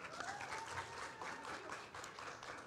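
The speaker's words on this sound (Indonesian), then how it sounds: "Oke, tepuk tangan dong untuk teman-teman." Audience applause for student presenters at a school ideation contest in Jakarta, a steady wash of many hands clapping at moderate distance, fairly soft and continuous throughout.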